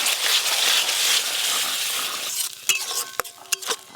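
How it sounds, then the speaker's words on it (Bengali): A spice paste of rice, poppy seed and raisin being stir-fried with a little water, a bright hiss of sizzling with a spatula scraping, then a few clinks of metal against the pan. "সামান্য একটু জল দিয়ে ভালো করে কষিয়ে নেব।"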